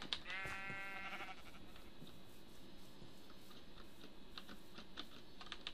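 A sheep bleats in the Minecraft video game, a short wavering call near the start, followed by quiet clicks like keyboard typing over a soft background.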